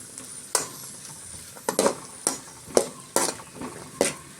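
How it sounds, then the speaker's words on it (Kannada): Chopped green beans stir-fried in hot oil in a pan for veg fried rice, with a quiet steady sizzle broken by several sharp scraping stirs, close and moderately loud with no talk. "ಬೀನ್ಸ್ ಹಾಕ್ಕೊಂಡು ಇದನ್ನು ಚೆನ್ನಾಗಿ ಫ್ರೈ ಮಾಡ್ಕೊಳ್ಳೋಣ."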